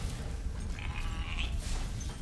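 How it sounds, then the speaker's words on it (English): A sheep in the video game Spyro Reignited bleats once, a moderately loud wavering call in the middle, over a steady low rumble of game background sound. "Is that a fucking sheep?"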